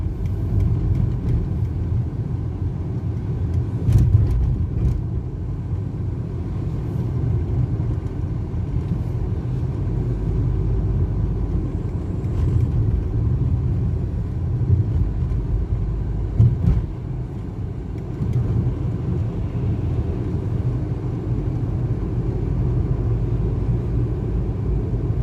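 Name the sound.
bus driving on wet roads after rain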